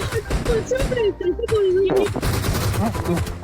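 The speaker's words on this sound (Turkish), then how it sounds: "Özer'den silah seslenmiş." Video game gunshots crack out in quick bursts and rapid strings, loud and close, while voices talk and a tone warbles over them.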